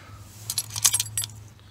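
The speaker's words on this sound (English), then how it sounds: "Look how many keys you got there." A bunch of about six keys jangles in short metallic bursts, fairly close and moderately loud, over a low steady hum.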